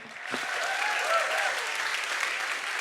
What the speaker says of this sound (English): Now please welcome with a warm applause Tobias and Johannes.